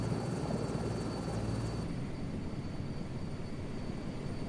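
Steady helicopter rotor and engine drone from a helicopter in Microsoft Flight Simulator 2024, a constant, fairly loud wash that dulls slightly partway through as the perspective shifts, with no talking.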